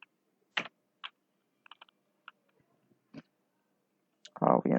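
Computer keyboard keys tapped in short, scattered clicks at close range, with a brief voice coming in at the end.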